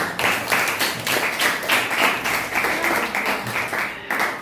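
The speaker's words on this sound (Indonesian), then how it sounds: "Tepuk tangan untuk William" A small group of students in a classroom lesson claps for a classmate, a rhythmic burst of hand claps at steady volume lasting a few seconds.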